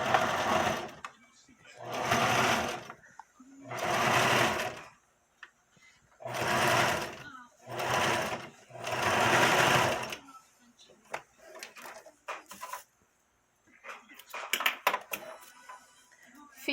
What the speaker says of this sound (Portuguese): E aí eu vou fazer a costura aqui pra gente virar e rebater essa costura.